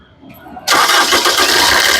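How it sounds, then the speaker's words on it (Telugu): A 2016 Maruti Suzuki Vitara Brezza ZDi Plus cranks and fires on a single start after a near-quiet moment, then settles into a loud, steady idle close by. "ఒకసారి ఇంజన్ స్టార్ట్ చేసి చూపిస్తాను"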